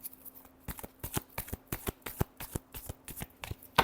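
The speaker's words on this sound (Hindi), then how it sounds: "Last shuffle." Tarot cards riffle and snap in quick, close bursts, a rapid run of crisp shuffles with short pauses between, alone and clear.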